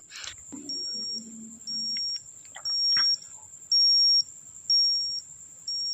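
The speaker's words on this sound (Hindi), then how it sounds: "जब ये हाथ का टेम्परेचर अचीव होगा तो ये बीप देगा।" A digital thermometer chirps to signal a finished temperature reading: five or six short, evenly spaced high electronic beeps ring out clearly after a brief voice and some handling noise at the start.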